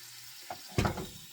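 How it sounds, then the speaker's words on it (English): A pan sautéing ingredients for a Mexican chicken casserole: steady low sizzle, then a brief clatter and a louder burst of frying and stirring close by, easing back to a soft hiss. "I'm just going to saute this a little bit"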